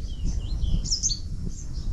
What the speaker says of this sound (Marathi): आणि तुम्हाला इथे पक्ष्यांची किलबिलाटही आता ऐकायला येत असेल.